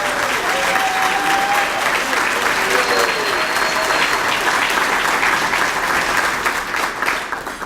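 Loud, steady applause fills a room at an annual chamber dinner and award ceremony as a community service award recipient is honored. The clapping continues unbroken for several seconds and thins slightly at the end.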